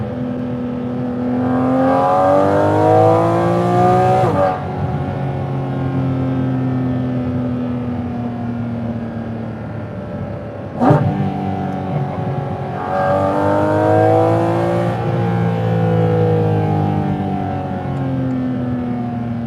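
A Porsche 718 Cayman GT4 RS engine revs hard and close through downshifts: two long rising rev sweeps, each cut off abruptly, with a sharp blip between them and an idle-like hum in the gaps.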